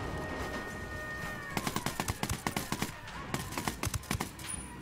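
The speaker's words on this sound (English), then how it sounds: "Opening fire on these shitheads." Rapid bursts of automatic gunfire in the shooter game Ghost Recon Wildlands, sharp cracking shots in quick clusters after a quieter start, loud and close.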